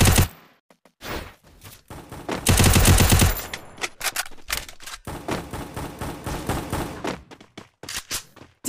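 Rapid automatic gunfire from a video game rattles out in loud bursts, with a dense sustained volley in the middle and choppy shots continuing to the end.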